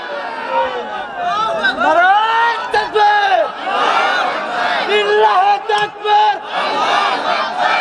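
A large crowd at a Bengali Islamic sermon gathering shouts takbir together with raised hands, a loud sustained roar of massed voices rising and falling in waves, with individual cries standing out above the chant.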